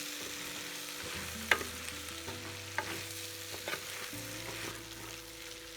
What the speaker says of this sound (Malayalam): എന്നിട്ട് നല്ലോണം ഒന്ന് ഇളക്കണം.